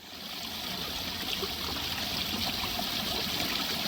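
A small backyard garden stream trickles and babbles steadily at close range, a continuous, even wash of running water with no voices.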